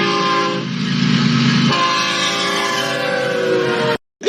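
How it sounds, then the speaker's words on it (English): A freight train rolls past a front yard, loud and close, with a steady heavy rumble, a blaring horn holding sustained tones for several seconds, then an abrupt cutoff near the end. "It sounds like there's a freight train about to go through my front yard"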